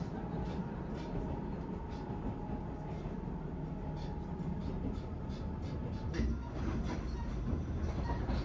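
Steady low rumble and rattle of the Noto Satoyama-Satoumi sightseeing train rolling along the tracks near Noto-Kashima, heard from inside, with faint clacking over the continuous drone.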